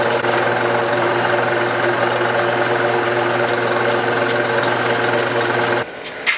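A yard sale bandsaw whose blade is riding out runs with a steady, loud mechanical whir and buzz, then winds down abruptly near the end.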